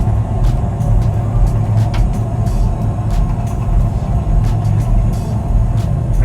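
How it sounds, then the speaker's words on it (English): A Boeing 737 flight simulator roars with loud, steady low rumble as reverse thrust runs after landing, a continuous broadband engine wash with faint clicks on top. "Reverse thrust is on."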